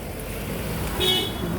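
A car horn gives a brief, fairly faint beep in passing traffic, a short tone standing out over a steady roadway rumble.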